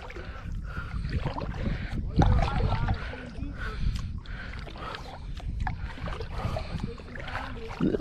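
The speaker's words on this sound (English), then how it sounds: "just a few more strokes of the paddle" Paddle strokes push a small boat along a backwater canal, with repeated splashing pulls and water swirling against the hull, close and fairly loud, joined by light wind buffeting on the microphone.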